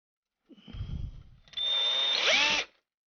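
A power drill whirs briefly at low pitch, then spins up into a loud high whine as it bores into wood, stopping abruptly as the drill bit breaks off.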